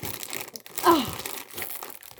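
A snack package, a Crayon Shin-chan-style Korean cracker bag, crinkles and tears open by hand in one short ripping burst near the middle, close and clear, with no talk over it.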